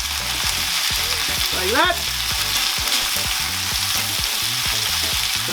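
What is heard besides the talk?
chicken fajita pieces sizzling, scraped and flipped with spatula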